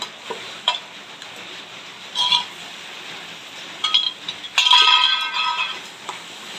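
Chutney pounded with moringa leaves is stirred in a pan, with soft scraping strokes and scattered clinks of the spoon against the pan over a faint sizzle, louder bursts near the end.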